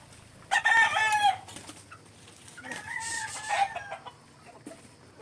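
Cockerels crowing in a backyard, two loud crows close by, with clucking and other fowl sounds between them.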